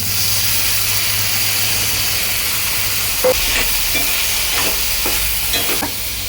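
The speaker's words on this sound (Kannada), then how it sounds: "ಈಗ ಇದು ಕ್ರೀಮಿ ಮಶ್ರೂಮು ಚೆನ್ನಾಗಿ ಫ್ರೈ ಆಗಿದೆ" Creamy mushrooms frying in a pan, a steady loud sizzle with scraping stirs toward the end, close and alone without talk.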